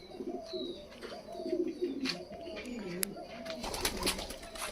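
A stray pigeon at a farm gives repeated soft, close cooing calls in a low, throaty rhythm, with faint chirps and a quiet voice in the background.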